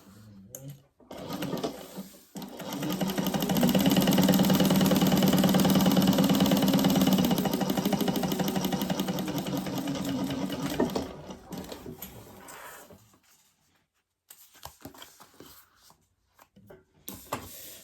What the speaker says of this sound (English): Now we're going to baste across the top.